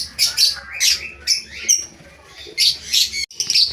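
Indian lovebirds chirp and tweet repeatedly at a homemade tenement-style nest box, bursts of sharp close calls coming in quick clusters with short pauses between.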